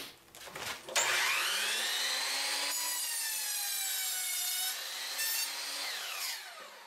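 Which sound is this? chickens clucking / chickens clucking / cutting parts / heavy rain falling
cutting parts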